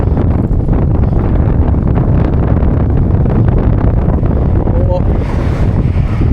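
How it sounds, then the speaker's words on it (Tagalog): Strong wind buffets the microphone throughout a ride on a moving boat during Golden Week, a steady loud roar with a brief voice at the start and faint exclamations near the end. "Grabing hangin to."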